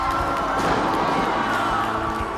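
Steady, dense roar of a wrestling arena crowd cheering, loud and unbroken throughout with a broad wash of voices.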